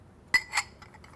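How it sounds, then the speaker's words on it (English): Glass clinks while a Manhattan cocktail is stirred: two short, bright chinks about a quarter second apart, followed by a few faint softer taps, close by in a quiet room. "Give it another quick stir."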